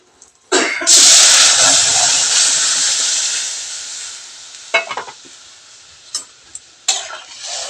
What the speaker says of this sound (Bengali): এখন আমি যে সাদা সর্ষে আর কালো সর্ষে দিয়ে দিচ্ছি এখন আমি ডালটা দিয়ে দিব